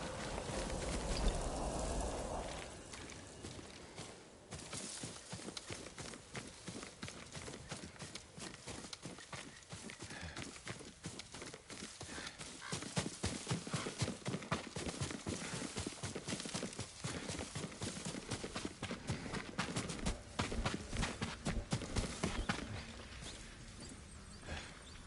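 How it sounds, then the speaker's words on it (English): A horse in the video game Ghost of Tsushima clops along steadily at a run, hoofbeats moderately distant and fairly faint, under a wash of ambient noise. "Yuriko's horse. She can't be far."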